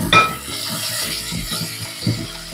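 Onion and tomato with salt being stirred in a pan, with repeated scraping and clinking of a utensil against metal under a soft background sizzle, close and steady, with a couple of louder knocks.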